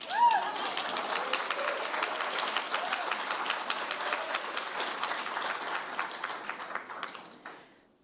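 Steady crowd applause fills a pension-rights anniversary gathering, dense and even for about seven seconds before tapering off at the end, with no talk over it.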